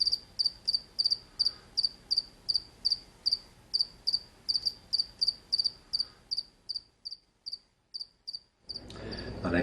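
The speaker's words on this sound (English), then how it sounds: "I thought she was going for the cricket." A cricket chirps in a steady, evenly spaced series of short, bright pulses, fairly close and alone, before the chirping stops and a louder rustle takes over at the very end.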